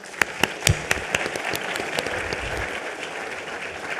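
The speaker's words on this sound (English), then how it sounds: "give a huge round of applause to the organizers for putting this event together" At the Sycon 2015 conference, the audience applauds the event organizers, starting with a few distinct, loud claps that quickly merge into a steady, moderate round of clapping.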